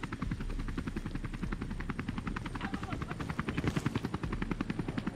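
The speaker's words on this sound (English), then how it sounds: "Helicopter still outside looking for us." A helicopter in the video game Crossfire X throbs steadily with a rapid, even rotor chop, holding at moderate loudness for the whole stretch as it hovers somewhere outside the building.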